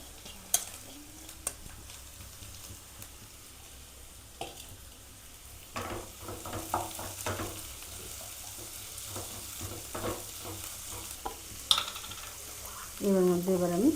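Boiled green peas frying in a pan, a quiet low sizzle broken by scattered scraping and clinking stirs, with a louder burst of sizzling near the end.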